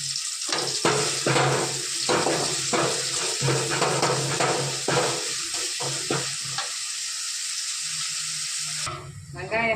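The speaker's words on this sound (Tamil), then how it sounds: "வெங்காயம் கொஞ்சம் நல்லா வதங்கிட்டுருங்க. வெங்காயம் சீக்கிரம் வதங்கணுங்க." Onions sautéing in a pan for lunch, with loud close sizzling broken by repeated scraping stirs of a spatula, then the frying settles into a quieter steady hiss before a final clatter.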